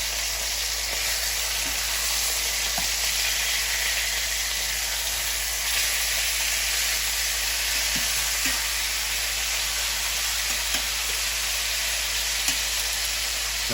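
Marinated taco meat sizzles and fries steadily in a pan after being flipped, a loud continuous crackling hiss close by with occasional small pops and no talking.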